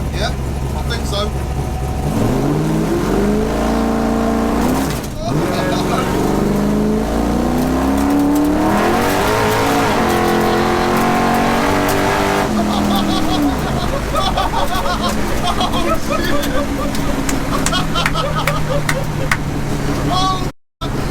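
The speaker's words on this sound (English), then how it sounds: "When I push the trans brake, I'll rev it up, nothing's going to happen." A 750bhp Mk1 Ford Escort revs hard against its trans brake, then launches with a brutal roar. The engine sounds loud and close, climbing and falling through the revs before a sustained full-throttle pull.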